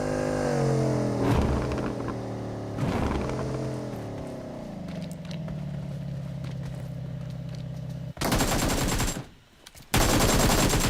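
Gunfire in PUBG Mobile: a burst of rapid automatic shots crackles in two loud bursts near the end, after a stretch of a revving vehicle engine droning in the foreground.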